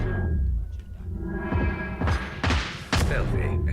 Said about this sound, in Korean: 사격을 자제하려 쓰면서 지금 사격을 했잖아